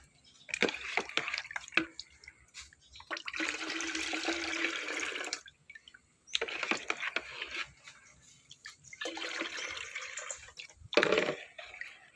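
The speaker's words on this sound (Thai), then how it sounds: "ก็เทใส่บัวให้หมดนะคะ แล้วค่อยเอาไปลดน้ำนะคะ" Rice-rinse water is poured into a watering can, heard as several bursts of sloshing, splashing liquid with short pauses between pours, close and fairly loud with no talking.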